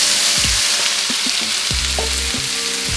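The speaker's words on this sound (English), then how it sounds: "start with a relatively hot pan, a good amount of olive oil, then dump your onions in just like this" Onions dumped into a hot pan of olive oil, giving a loud, steady sizzle across the whole stretch, with low thumps and clatter as they land and shift.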